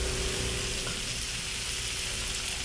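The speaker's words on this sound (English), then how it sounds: "all we're going to do now is we're just going to add our lentils." Lentils go into a hot pan with pancetta and sizzle steadily, a loud continuous frying hiss up close with no talking over it.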